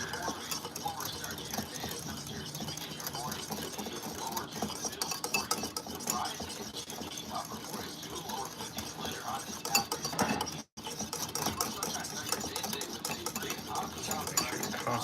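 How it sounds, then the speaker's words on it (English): Sauce for eggs Benedict whisked steadily in a bowl while liquid is slowly poured in, giving a continuous scraping, clinking stir at close range that runs throughout with one brief dropout near the end. "Make sure you're constantly whisking as you're pouring it."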